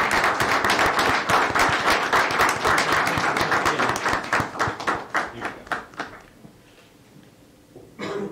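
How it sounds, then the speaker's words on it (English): Applause at a city council meeting following a proclamation, a burst of clapping from a modest room that thins into scattered individual claps and fades to near quiet. "Let's give Emily a big round of applause."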